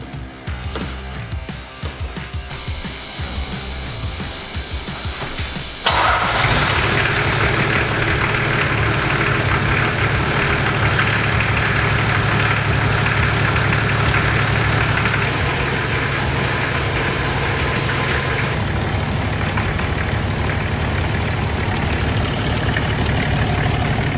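A 105 series Toyota Landcruiser engine cranks briefly and fires up, then settles into a steady, loud, close idle that runs on without a break.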